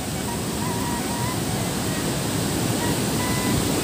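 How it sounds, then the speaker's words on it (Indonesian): Swift, swollen river water rushes after several days of rain at a river crossing spanned by a long bridge near Dongko, a steady dense roar continuing without break and no speech. "Airnya masih sangat deras sekali karena beberapa hari ini di Dongko barusan hujan ya."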